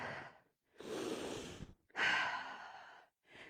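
Slow, deep breaths during a yoga flow class: a long audible inhale, a pause, then a strong exhale with a faint sighing quality, close and quiet in a still studio.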